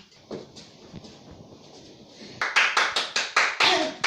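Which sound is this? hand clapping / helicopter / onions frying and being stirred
hand clapping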